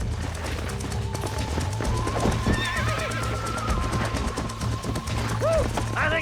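A horse whinnies and hooves run in the video game Red Dead Redemption, a drawn-out neigh over a steady galloping patter, with music and faint game sounds behind.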